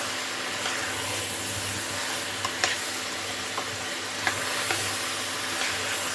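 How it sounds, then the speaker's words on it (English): Steak cooking in a pot sizzles with a steady hiss and crackle, broken by a few sharp pops and small clicks, close and continuous with no talking. "Just getting all that flavor on our steak because it's going to keep cooking in our pot"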